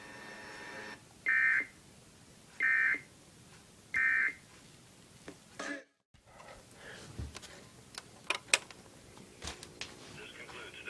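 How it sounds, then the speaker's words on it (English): Three evenly spaced electronic alert tone bursts from an Iowa Emergency Alert System test sound in sequence, followed by a brief dropout and then scattered clicks and sharp ticks. "This is a test of the Iowa Emergency Alert System."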